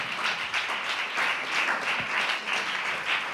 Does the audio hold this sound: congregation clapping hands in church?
yes